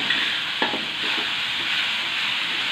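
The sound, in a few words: ground spice paste being stir-fried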